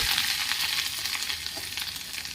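Spices with turmeric and chili powder fry in a hot pan, a steady close sizzle with scraping stir sounds throughout.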